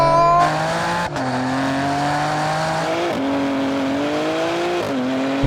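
BMW M cars (M2, M3, M4, M5, M8, X3M, X5M, XM) launch side by side in a drag race. Engines roar loudly through rising revs, with sharp gear-shift drops and continuous high-pitched engine tones.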